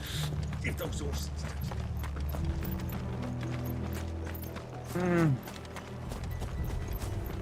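Horse hooves clip-clop in a steady rhythm in Final Fantasy XVI, set against a dense game soundtrack and ambience, with a brief louder creaking swell midway.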